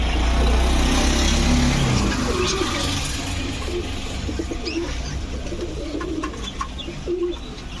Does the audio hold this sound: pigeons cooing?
yes